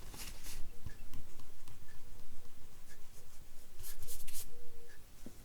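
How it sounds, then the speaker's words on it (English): Pen writing on paper while labelling a pocket piece in a paper-craft kit, a close scratchy scribble in short irregular strokes with small pauses, steady throughout with no talking. "you're going to need to write pocket"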